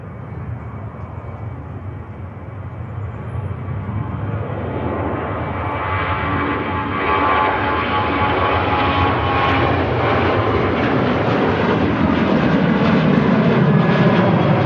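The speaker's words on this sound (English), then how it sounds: "here's a Ryanair for Prague on the roll." A Ryanair jet airliner bound for Prague begins its takeoff roll at Manchester Airport, its engine roar swelling steadily and growing louder and fuller over about fifteen seconds.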